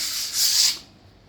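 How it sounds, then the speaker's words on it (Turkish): A close, raspy swipe of sandpaper scrubbing excess plaster off a wall, one brief stroke that swells and then fades out. "şimdi alçımızın fazlalık kısmını zımparayla alıyoruz"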